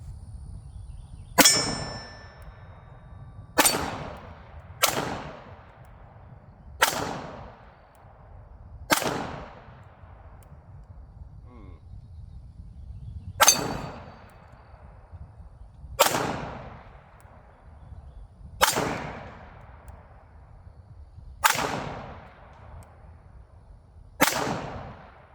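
Eleven sharp, loud gunshots from a Taurus PT92 pistol firing Fiocchi 147 grain rounds, spaced about two seconds apart with short echoing tails and no talking.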